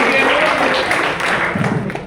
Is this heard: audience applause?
yes